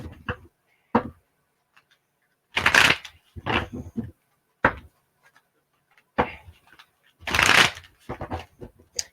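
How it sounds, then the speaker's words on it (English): Tarot cards being shuffled by hand in several short, crisp riffling bursts separated by pauses and light taps, close up and alone without talk. "Let's go ahead and get you a couple of shuffles"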